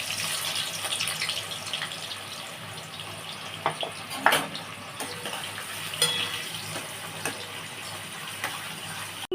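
Onions frying in white oil for birista: a continuous hiss with scattered sharper pops and crackles, moderately loud, no talking.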